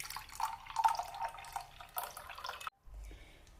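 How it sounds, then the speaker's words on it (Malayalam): Mint lime juice is strained and poured into a serving glass, a soft, faint trickle and splash that runs for a few seconds and then stops abruptly, with no one speaking. "നമുക്കിത് സെർവിങ് ഗ്ലാസ്സിലേക്ക് ഒന്ന് അരിച്ചൊഴിക്കാം."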